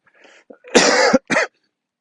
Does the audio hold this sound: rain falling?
no